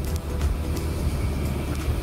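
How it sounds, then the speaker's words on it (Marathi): A car drives along a potholed rural road near Dapoli, giving a steady low road and engine rumble with faint knocks, heard from inside the cabin with no talk. "सुदेश भाऊ आमची गाडी चालवत आहेत मस्तपैकी, रस्त्याला खड्डे आहेत असा रस्ता आहे तो"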